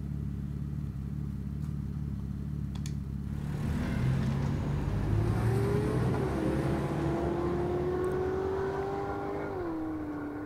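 A Ford Mustang Boss 302 or 402 in The Final Station video game idles with a low rumble, then revs up loudly with a rising whine before settling, close and alone with no voices.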